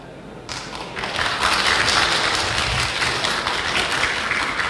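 An audience at a regional election event for Pidie Jaya regent and vice-regent candidates bursts into sustained applause, a dense wash of clapping that builds quickly and holds steady, with faint voices underneath.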